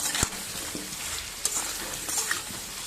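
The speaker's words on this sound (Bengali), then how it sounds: "দিয়ে নাড়াচাড়া করে নামিয়ে নেব" Mutton being stirred and fried in a pan for a Bengali mutton curry, a steady close sizzle with occasional scraping stirs and knocks throughout.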